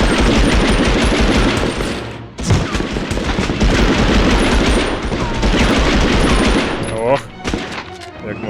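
Loud bursts of rapid automatic machine-gun fire in the video game Medal of Honor (1999) rattle almost continuously, with a brief pause and heavy thuds, in a dense game-like mix.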